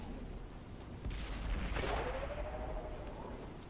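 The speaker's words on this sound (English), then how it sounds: "Artillery's coming in." Artillery fire in the tank game World of Tanks lands as a deep boom with a descending whistle trailing after it, over a steady low rumble of engine noise.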